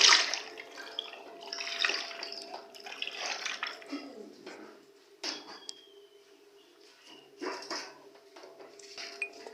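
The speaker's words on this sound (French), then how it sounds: "mettre de l'eau dans les macabous déjà placés dans une marmite" Water pours into a cooking pot of macabo, a splashing, rushing stream in uneven bursts mixed with metallic knocks and clinks of the pot, close up and with no voices.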